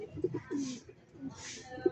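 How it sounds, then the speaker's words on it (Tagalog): Racing pigeons arriving back at their loft in Sariaya, Quezon, giving soft low coos and brief fluttery sounds at close range, with quiet murmuring voices nearby. "yung kalapati natin, dire-diretso lang sila sa paglipad at hindi na sila nagdapo"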